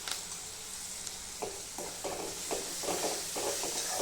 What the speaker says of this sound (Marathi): टमाटर पण आपलं चांगलं तेलामध्ये हे झालं चांगलं फ्राय झालेलं आहे मिक्स पावडर पण तेलामध्ये चांगली फ्राय करून घ्यायची